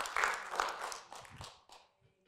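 Congregation clapping during a church sermon, a few scattered bursts of handclaps fading away over a couple of seconds, with a voice faintly underneath.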